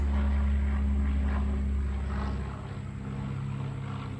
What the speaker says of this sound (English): Nice dual engine airplane flying overhead there